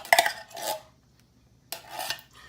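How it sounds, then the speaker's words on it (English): Spoonfuls of chili being scooped and dropped into a dish of corn with cheese, with close metal-on-dish scrapes and clinks in two short bursts separated by a quiet pause. "I'm going to take a spoonful of chili, and then another spoonful of chili"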